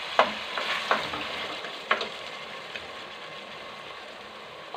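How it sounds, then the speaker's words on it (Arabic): Ingredients sauté in a pan with a soft, steady sizzle, and a utensil clacks against the pan every second or so as it stirs. "كنشحر العناصر اللي عندي مزيان"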